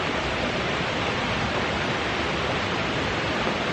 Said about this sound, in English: you can hear the water stream, right?